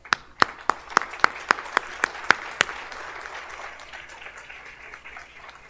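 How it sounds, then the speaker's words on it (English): Audience applause at a convocation ceremony, opening with loud, regular close claps over a broader crowd clapping that carries on as a softer, steady wash. "Now the audience may applaud."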